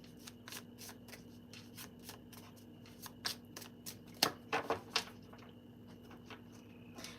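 Tarot cards shuffled by hand in a quiet room, a run of quick soft riffling bursts that grows denser and louder near the end, with no talking.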